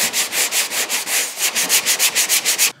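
Hand sanding block rubbed over a car hood with sandpaper on a 2007 Subaru STi, quick rhythmic back-and-forth strokes about five per second, close and loud, alone without speech.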